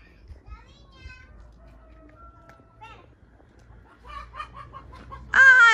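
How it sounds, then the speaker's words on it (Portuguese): Hens cluck in a backyard in Portugal, their short calls rising and falling near the listener, while children's voices and high squeals break in, loudest at the end. "Vem ver a galinha."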